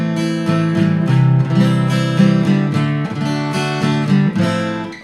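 An acoustic guitar strums House of the Rising Sun chords in a steady down, down, up, down, down pattern, close and clear, with ringing strings and no voice.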